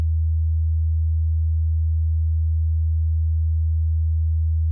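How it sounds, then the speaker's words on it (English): A steady, clean 80 Hz sine tone hums at an even loudness throughout, with no distortion or other sounds. "80 Hertz, no distortion from the VNE."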